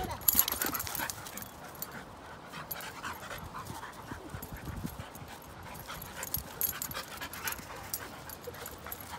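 A dog whimpers and pants steadily at close range through a household scene, with soft yips and faint background voices.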